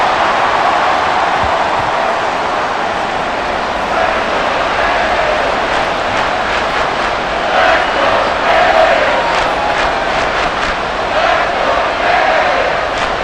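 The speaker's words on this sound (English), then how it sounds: "this crowd doing their best to make a lot of racket" A stadium crowd in the Madden NFL 24 football video game, Baltimore Ravens against Miami Dolphins, keeps up a loud, sustained roar with rising cheers and whistles throughout, and no commentary is spoken over it.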